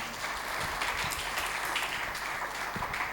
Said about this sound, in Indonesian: tepuk tangan buat Babe